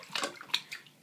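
A small child splashing bath water with hands and feet, a few quick close slaps and splashes with drips in between, fairly quiet.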